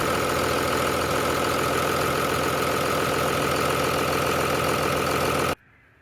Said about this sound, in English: So there it is running.